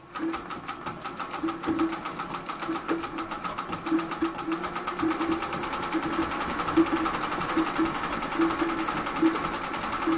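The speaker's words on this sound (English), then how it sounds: "we're just going to run a quick stitch on it" A Singer 201 treadle sewing machine runs a stitch with a steady, fast mechanical rattle that holds an even rhythm throughout, close and fairly loud, with no talk.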